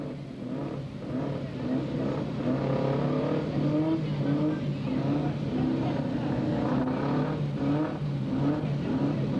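Mini modified race cars circling a track in a 20-lap Christmas Derby, engines droning and revving steadily throughout at mid distance, with the pitch rising and falling as the cars pass.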